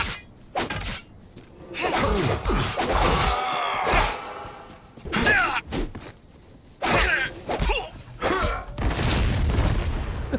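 Loud booming blasts and shattering crashes erupt in bursts with brief quiet gaps, chaotic explosions and debris in the fighting video game Shadow Fight Arena.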